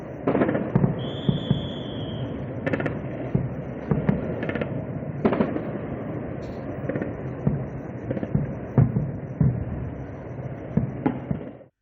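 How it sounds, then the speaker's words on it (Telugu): Explosions ring out during Pakistani drone attacks in Jammu and south Kashmir, heard as a rapid series of sharp, booming cracks over a dense, noisy outdoor backdrop. "జమ్మూ, దక్షిణ కశ్మీర్లోని పలు ప్రాంతాల్లో పేలుళ్ల శబ్దాలు వినిపించాయి."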